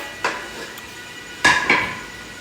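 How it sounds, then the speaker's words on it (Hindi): Okra being stirred into masala in a cooking pot, heard as a few scraping, clinking strokes of a spoon against the metal, with two sharper knocks close together near the end. "तो यूँ इसको हम लोगों ने मिक्स कर लेना है"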